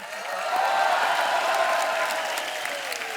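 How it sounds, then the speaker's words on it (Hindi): A studio audience on a comedy talk show claps in a full, continuous burst, the applause swelling quickly, staying loud and close, then easing slightly toward the end. "लोग तालियां बजा रहे हैं।"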